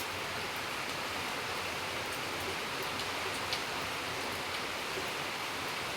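Continuous soft hiss of rain falling outside, even and unbroken throughout, with no voices.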